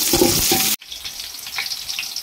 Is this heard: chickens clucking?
no